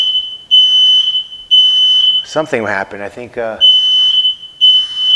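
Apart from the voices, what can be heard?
fire alarm going off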